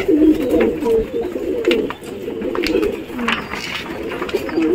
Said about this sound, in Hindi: দেখতে পাচ্ছেন তো এই একটা পায়রা ছাড়ছি।